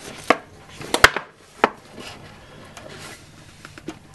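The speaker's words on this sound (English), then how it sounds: "Go ahead and grab my knife over here and cut right into it." A knife slices into a cardboard product box for a Bluetooth speaker, giving a few sharp close cuts and scrapes followed by soft rustling and light tapping in a quiet room.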